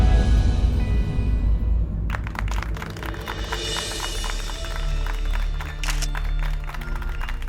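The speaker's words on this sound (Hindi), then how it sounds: "आप ही के लिए ताली बज रहा है।" Crowd applause breaks out after a short stretch of background sound, then holds as a steady, dense clapping.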